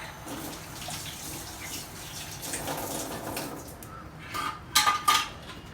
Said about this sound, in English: I just wash my hands.